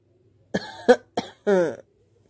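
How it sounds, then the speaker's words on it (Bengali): A few short bursts of coughing, four close hacks with brief pauses between them, near and fairly loud against a quiet background. "খক খক খক খক কাশির শব্দ"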